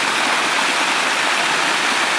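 The Purgatoire River in Trinidad, Colorado, flowing in February, gives a constant, close, loud rushing of water that stays even throughout, with no voices.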